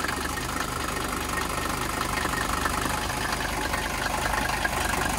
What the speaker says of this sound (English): So that's a cold start there